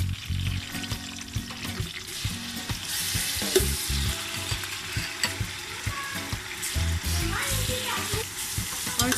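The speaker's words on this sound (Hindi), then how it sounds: "अब हम इसमें टमाटर ऐड कर देंगे।" Tomatoes tipped onto browned onions sizzle and fry in a karahi for chicken karahi, a steady close crackle with scraping stirs and brief splashy pours, loud throughout with no talking.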